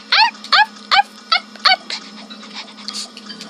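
A puppy or small dog yips five times in a quick, evenly spaced series of high, bright barks at close range, then trails off into fainter whimpering and squeaky noises.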